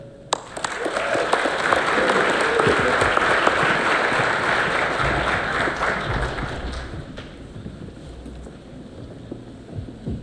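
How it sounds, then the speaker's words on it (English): Audience applause at a regional educators awards and scholarship program, a dense sustained round of clapping from a large crowd that swells then gradually thins out over about ten seconds. "let's have a round of applause for Murray State University's EQ Blue"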